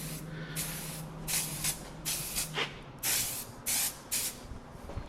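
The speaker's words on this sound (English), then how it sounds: "It's a silicone lubricant spray" A can of silicone lubricant spray is used on a window-cleaning pole hose, giving several short, sharp aerosol hisses of varying length, close to the microphone.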